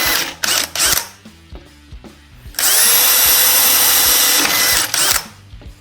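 A power drill with a dual-purpose bit bores into material, starting with a few short stuttering bursts and then a loud, steady, high grinding whine that lasts several seconds before it cuts off. Heard up close.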